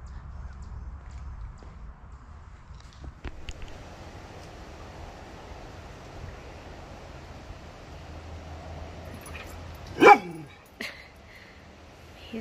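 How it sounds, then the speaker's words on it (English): Rottweiler barking at a bee in a quiet home yard by a pool: a few sharp, separate barks, with one loud close bark near the end, over faint background. "He's barking at the bee"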